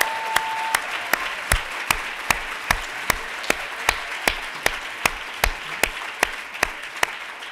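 Slow, evenly spaced single claps ring out close by at a law school event celebrating votes for women, roughly twenty sharp hand strikes over a soft background of room noise.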